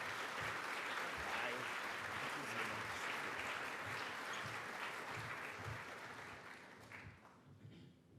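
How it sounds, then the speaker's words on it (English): An audience claps steadily and loudly, welcoming a panelist to the stage at a conference panel, a dense sustained wash of applause that thins and fades out near the end. "a warm round of applause for our panelist"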